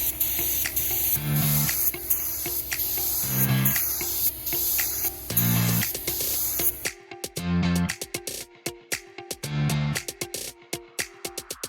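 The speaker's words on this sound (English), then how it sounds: "I am gonna spray this part up here, all the sides" Bursts of hissing marine paint spray on a fiberglass bracket come and go in short blasts, some long and some clipped, with brief pauses between passes.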